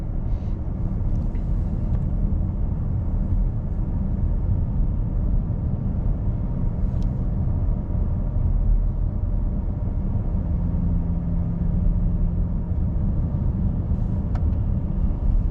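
Car with an automatic transmission being shifted manually, cruising in third gear at about 2,000 RPM after an upshift, giving a steady, moderate low engine and road rumble throughout with no talk.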